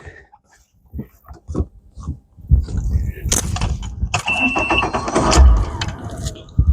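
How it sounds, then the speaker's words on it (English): A boat engine cranks and starts with help from a NOCO Boost GB40 jump starter, a loud close starter whir catching into a running rumble after a few seconds of quiet handling noises and talk. "And then I'm going to start my engine."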